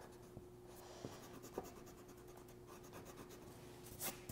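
A pencil eraser rubs back and forth on paper while outlining a drawing of a chicken's tail feathers, a soft, quiet scratchy friction with a few small taps, close up and alone over a faint steady hum.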